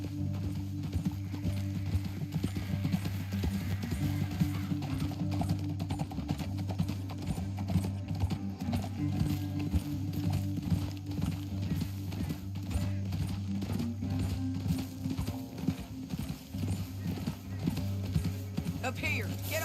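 Horse hooves clip-clop in a steady, continuous rhythm, fairly close, with an occasional whinny and voices talking over it, from the video game Red Dead Redemption 2.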